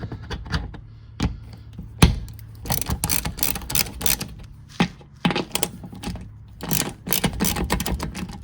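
Hand ratchet loosening 13 mm oil pan bolts under a Jeep Cherokee 2.4L at home, heard as irregular bursts of rapid metallic clicking with brief pauses and sharp knocks, close and fairly loud, no talking.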